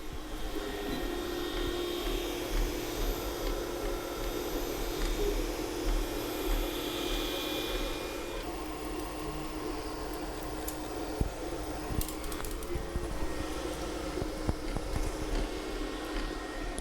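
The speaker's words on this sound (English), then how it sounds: "The fans are reasonably quiet and the stepper motors are ultra quiet." A Weedo X40 IDEX 3D printer running, with fans giving a low steady whir and very quiet stepper motors adding faint ticks, alone and unchanging throughout.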